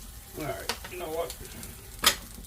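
Bologna fries in a cast iron skillet with a soft, steady sizzle beneath a person talking nearby, then a sharp clatter near the end as the skillet or utensil is handled.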